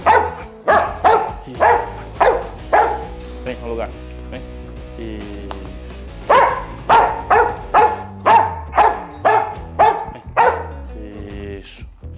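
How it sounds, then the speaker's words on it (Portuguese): A dog being trained to bark on a speak command lets out two runs of sharp, loud, rhythmic barks close by, separated by a short pause with a person's voice. "Agora que a gente fez esse primeiro latido sair"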